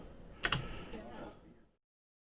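A couple of quick computer keyboard presses on a backspace key, close and faint, ending in silence.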